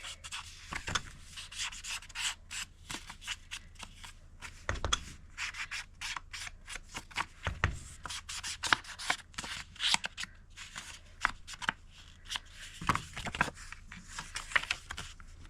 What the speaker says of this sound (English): Simply going to trim my corners up